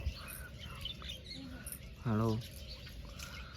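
Pigeons peck at scattered grain with a faint, irregular patter and light bird sounds, and a voice cuts in briefly partway through.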